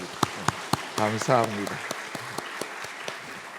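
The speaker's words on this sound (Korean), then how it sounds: "우리 환영의 박수 하도록 하겠습니다" A brief burst of welcoming applause from a church congregation during a Sunday service, scattered claps fading over a few seconds, with a voice speaking briefly in Korean at the start.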